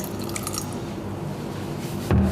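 Water for a panettone sugar syrup, 260 grams, is poured into a container as a faint steady trickle, ending in a short louder splash near the end; no one speaks.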